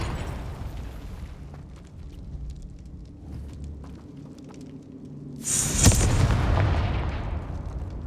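A fiery Confringo spell bursts in Hogwarts Legacy: after a low rumbling stretch, a sudden loud blast hits around midway and its roar carries on through the rest.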